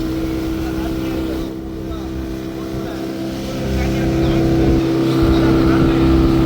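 A motorboat engine running steadily on water on a trip to Palaitheevu island, a loud, continuous drone with wind noise that swells slightly toward the end, with no clear talk over it.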